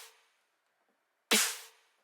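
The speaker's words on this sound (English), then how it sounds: "And then the snare stack sounds like this." Layered snare drum stack in a Bitwig Studio production, one sharp bright crack struck alone and ringing out briefly after a faint tail of a previous hit.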